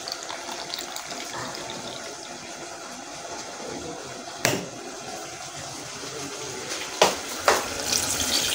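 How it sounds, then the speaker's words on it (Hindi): Tap water runs steadily into a pot in a home kitchen, a continuous mid-level splashing stream, broken by a few sharp clanks of metal, with no talking. "यहाँ से भरना है मुझे पानी"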